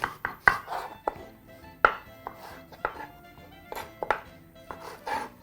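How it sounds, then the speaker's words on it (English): A knife chops onions steadily on a cutting board, sharp close knocks at an uneven pace with short gaps between strokes. "we're going to start off very simply by chopping up a bit of some onions"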